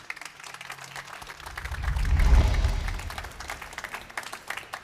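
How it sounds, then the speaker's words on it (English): Audience applause at a startup stage event as a speaker comes up, dense clapping that swells in the middle over a low rumble, then carries on more lightly. "He will need an extra applause to come to the stage."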